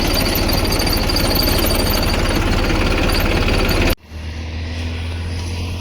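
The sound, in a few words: Mahindra tractor engine while spraying cumin crop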